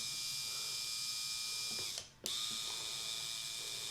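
An electric motor rotates the chute of a Buffalo Turbine mounted on a skid steer loader, giving a steady mechanical whir with a ratcheting gear tone, broken by a brief stop before it runs again.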